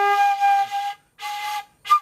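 A bamboo seruling flute is blown in a tutorial demonstrating how to produce a good note, sounding three close, clear sustained tones with harmonics, the last one short, with no talk.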